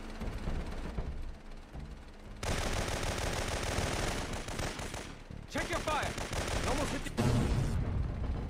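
Gunfire in the Syphon Filter 3 video game at the Pugari Gold Mine, South Africa: dense bursts of rapid shots and blasts, loud and continuous after a quieter start, with brief pauses between volleys.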